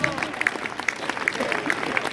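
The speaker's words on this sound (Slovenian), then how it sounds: "a lahko en velik aplavz" A live audience at a student octet and comedy show in Stari Velenje claps, lively scattered applause with individual claps audible, mixed with crowd voices.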